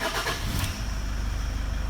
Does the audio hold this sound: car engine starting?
yes